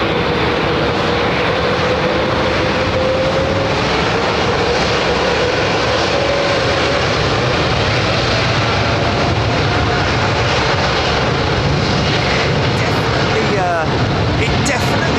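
A Boeing 787 Dreamliner roars at Heathrow Airport, a loud continuous broadband engine rumble and whine heard from outdoors, with people talking over it.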